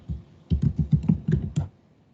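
A chapter title is typed on a computer keyboard in MS Word as a quick run of about nine close, crisp keystrokes, with a single tap before it and another after.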